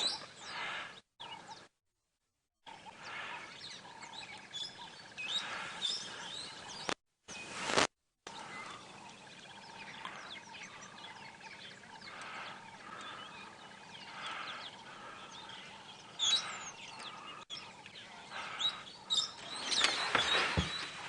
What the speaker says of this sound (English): A lot of noises, all the birds saying good morning.